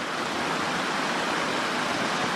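A mountain stream rushes past a backcountry campsite along the Little River Trail in the Great Smoky Mountains, a steady broadband wash of flowing water, even and continuous with no breaks.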